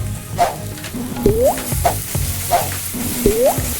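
Grated raw mango with salt sizzling in a pan for mango pulihora, a steady close frying hiss broken by a few scraping stirs of a spatula, with no talk.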